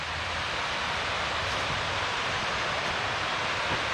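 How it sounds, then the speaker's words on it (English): A waterfall at Mill Creek Park in Youngstown, Ohio, on a rainy day, heard as a steady, dense, full-bodied rush of falling water that never lets up and has no voices over it. "There's the waterfall."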